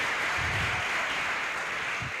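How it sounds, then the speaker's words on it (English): A short, steady wash of audience applause at a youth parliament session, dense and even throughout the brief moment, with no voices standing out. "Another round of applause to these young people"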